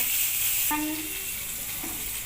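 Sliced eggplant with salt sizzling in hot oil in a pan, a steady close crackle throughout with a brief tonal squeak partway, no voices.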